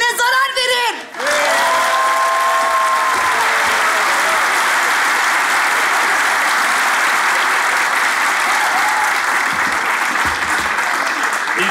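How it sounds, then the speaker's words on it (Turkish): Studio audience at a Turkish comedy sketch show breaks into loud, sustained applause lasting over ten seconds, preceded by a brief voice at the very start. "İlk defa lafı doğru söylediği için alkış alan insansın."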